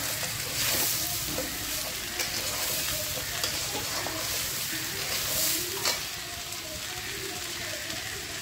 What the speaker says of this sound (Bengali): ভালো করে ভাজতে হবে এটাকে